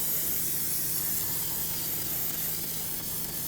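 Brake cleaner sprays in a steady, loud, continuous hiss onto a new rear brake rotor mounted on the hub of a 2017-2022 Honda CR-V, with no pauses.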